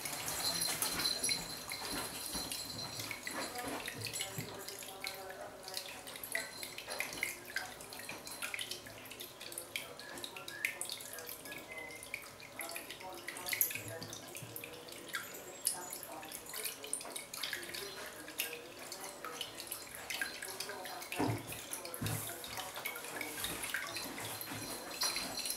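A tap runs continuously into a sink as shaving gear is rinsed off, with splashing and trickling throughout and occasional clinks from handled items.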